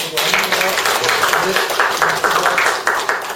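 Applause at a regional development seminar for chairman Lee Ki-jun, a loud and sustained crowd clapping that fills the whole stretch with voices blended in.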